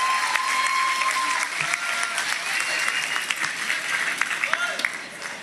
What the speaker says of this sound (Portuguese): a quem eu peço a vocês uma salva de palmas